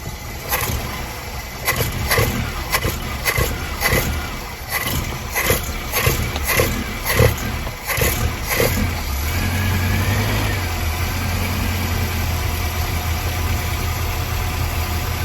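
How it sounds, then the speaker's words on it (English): A Nissan 1400 engine is revved in short rhythmic blips over a steady idle, then settles into an even, close running tone for the rest of the recording. "try and rev it a little bit up"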